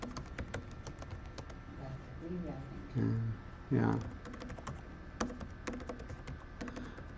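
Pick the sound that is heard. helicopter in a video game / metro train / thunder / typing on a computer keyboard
typing on a computer keyboard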